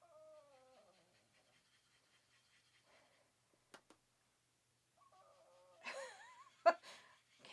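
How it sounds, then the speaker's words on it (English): A pet dog whimpers and whines from a distance in a quiet room, with thin high cries at the start, near the middle and louder toward the end, plus a couple of sharp clicks. "Can you guys hear my dog?"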